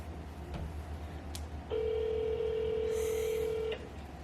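A phone rings out with a steady single-tone beep for about two seconds after a few faint key presses, heard close in a quiet room with no talking.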